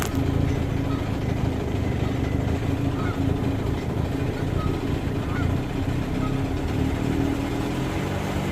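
Geese honk faintly a few times from open water near a sailboat, over a steady, loud low rumble of engine and wind noise.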